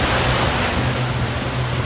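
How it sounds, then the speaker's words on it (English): A huge wave surges into a cave in a cartoon adventure, a loud, steady roaring rush of water and wind-like noise that stays close and constant throughout without any break or voices. "A huge wave carries them inside the cave."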